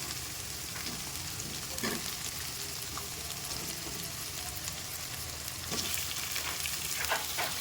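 Ginger paste, onions and chicken pieces fry in a pan for a chicken fry piece biryani, giving a continuous soft sizzle with intermittent stirring scrapes that grow a little louder toward the end.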